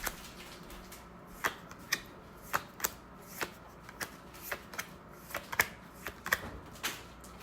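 Hoodoo Tarot cards are pulled and shuffled from a deck in a run of crisp, close slapping snaps, about a dozen irregular hits over quiet background.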